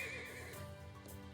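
A horse whinnies in the video game Trails of Cold Steel III, one short, loud neigh set against steady game music, with no talk over it.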